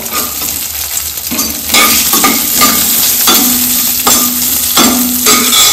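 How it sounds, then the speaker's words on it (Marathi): Dry fruits and raisins roasting in ghee in a pan for wheat kheer sizzle steadily up close, with repeated scraping strokes of a spoon stirring the pan throughout. "ड्रायफ्रूट घालते, भाजून घेते, मनुका घालते"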